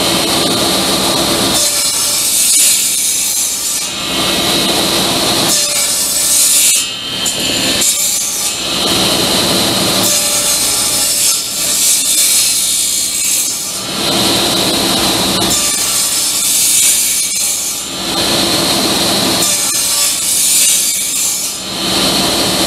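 Handsaw cutting dado kerfs in oak for a computer desk, loud close back-and-forth strokes in a steady rhythm with a few brief pauses.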